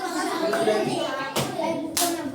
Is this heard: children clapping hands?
yes